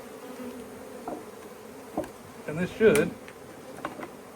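Honeybees buzz from a swarm trap in a faint, steady drone, with bursts of knocking and handling noise close by as someone speaks briefly.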